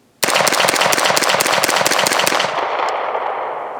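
A CMMG Guard 45 pistol fires hollow point rounds in a rapid burst of about nine sharp, loud shots in quick succession, close up, ending in a fading echo.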